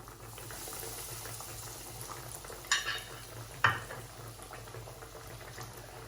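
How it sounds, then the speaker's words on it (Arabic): Hot oil heating in a frying pan, a faint steady bubbling hiss with two sharp brief clinks or crackles partway through, quiet and close with no talking. "ان راني شعلت على المقله ديال الزيت عندي راه سخن بحال هكا"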